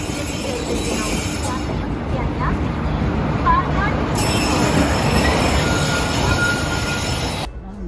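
Passenger train pulling into a railway station platform at Ernakulam Town, with loud rumbling wheels and high metallic squeals of wheels on rail, close up and steady, fading at the end; people talk in the background.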